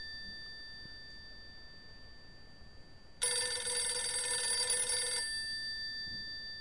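An old telephone in a long-abandoned house gives a bright, metallic bell ring that lasts about two seconds and then stops, clear against a quiet, hissy room with no talk.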